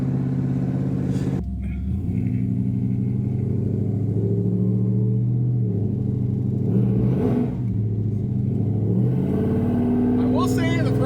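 A Volvo C30 accelerates hard through second gear, its engine drone rising steadily in pitch after a shift, loud and close, with faint voices in the background.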